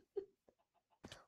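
Chicken clucking in a survival video game: a few faint, short clucks and squawks spaced irregularly, ending in a louder flurry, quiet and fairly close with no talking.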